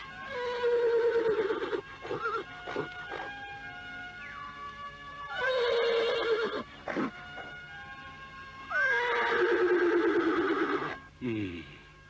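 A horse whinnies loudly three times in a forest, as an audio drama sound effect, each neigh a long, shrill, wavering call with short pauses between, ending in a brief lower snort.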